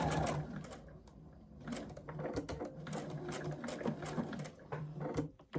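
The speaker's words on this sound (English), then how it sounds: "We're going to try that seam again and just stitch right over that tape" A sewing machine stitches back over a taped seam on a quilt project, a close, rhythmic mechanical whir and patter running in short bursts with brief pauses.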